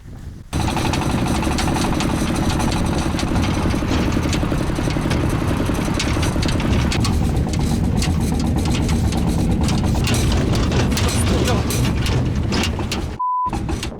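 A vehicle engine on a rough road in Tibet runs loud and close inside the cab, a dense rattling drone with a rough, vibrating roar that continues steadily before cutting off near the end.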